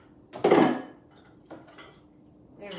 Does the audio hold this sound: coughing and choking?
no